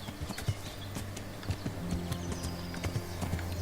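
Horse hooves clip-clop at a steady walking rhythm in the medieval video game Kingdom Come: Deliverance, moderately close over a low hum and faint background game ambience, with no voices.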